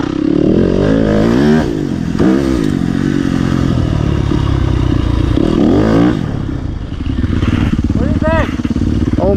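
A Yamaha YZ250FX dirt bike is ridden hard off-road, its loud engine rising and falling through repeated revs with clatter and scraping from the trail, while a rider's voice talks over it.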